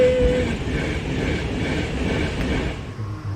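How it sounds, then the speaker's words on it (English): A train runs past a narrowboat moored by the line on a rainy day, a steady broad rumble and rattle across the whole stretch that fades slightly at the end, with no voices. "Train!"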